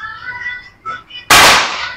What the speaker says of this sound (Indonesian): Coba kita tembak di sini lagi.